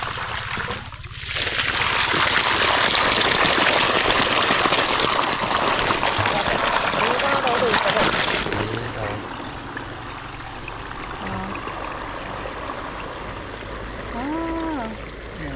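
Water pours and gushes into soil furrows in a tomato garden, a loud steady rush that eases into a softer trickle while people talk.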